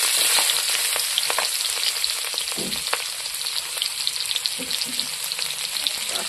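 Onion, bay leaf and green chilli fry in hot oil in a pan, a loud continuous crackling sizzle with scattered pops and occasional stirring, close and unbroken by speech.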